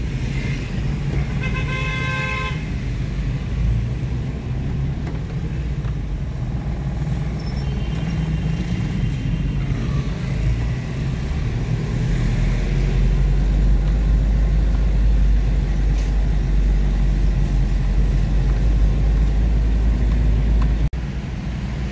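Heavy, congested traffic crawls along Lacson Avenue, with a steady rumble of car and truck engines, a few short horn toots early on, air-brake hisses, and a deep idling drone that swells louder toward the end.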